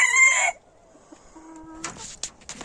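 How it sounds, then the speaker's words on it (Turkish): Chickens and roosters in a garden coop, six hens and two roosters, give a sharp loud call followed by scattered clucks and scratching noises nearby. "6 tavuk, 2 horoz var. Evet horozumuzun biri orada hareketlendi."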